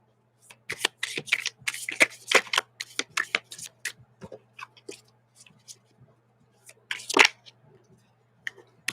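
Close, crisp riffle and flutter of playing cards being shuffled in quick irregular bursts, with brief pauses, a faint hum beneath, and no talking.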